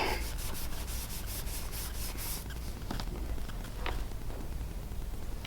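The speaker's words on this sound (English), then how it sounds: "Give it a little bit of a buff." Rapid rubbing of a cloth buffing wax fill into a chipped wood floor edge, a steady close scrubbing rasp that quickens at first and then settles, with a couple of faint knocks.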